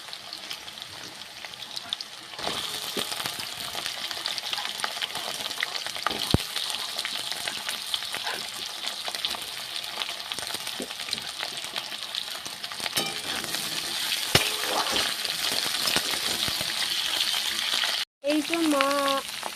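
Potatoes frying in a pan with tomato and spice paste nearby, a loud continuous sizzle with occasional scraping stirs and clinks, a brief voice near the end.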